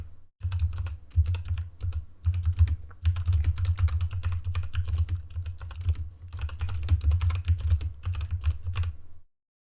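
Rapid clicking on a computer keyboard while a search query is typed, close and crisp in uneven bursts with brief pauses, ending in silence.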